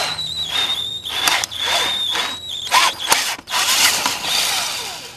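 A drill bit grinds into a broken bolt on a Turtle Diesel, with a close, uneven whine and chattering bursts that stop and restart several times.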